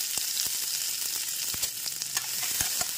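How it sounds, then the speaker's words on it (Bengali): Whole spices tempering in hot oil for a potato curry, a steady close sizzle and crackle with scattered sharp pops and stirring clicks, no voices. "ফোড়নটা একটু ভাজা ভাজা করে নিই"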